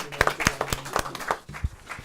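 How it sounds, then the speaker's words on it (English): A few people clapping after a song at an informal music session, sparse, distinct hand claps in an uneven rhythm, close and moderately quiet, with faint voices around them. "I'm going to applaud that"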